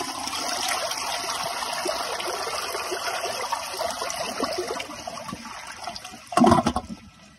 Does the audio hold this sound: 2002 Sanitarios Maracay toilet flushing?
yes